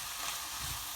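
Spices and tomato puree frying in a pan for a vegan ratatouille, a steady close sizzle that holds evenly for about a second, with no voices.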